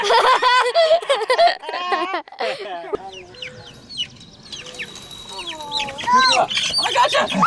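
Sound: chickens squawking while being caught

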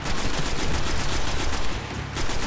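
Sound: trench gun shotgun firing in video game Destiny

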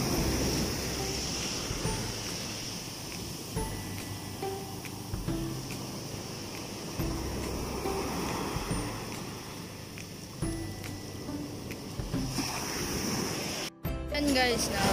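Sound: strong sea waves on the shore

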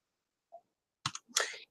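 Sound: mouse click on close button

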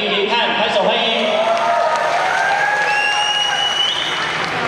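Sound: audience applause welcoming a performer

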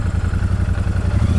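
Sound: twin-cylinder motorcycle engine

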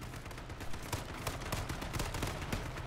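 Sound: gunfire in the video game H1Z1

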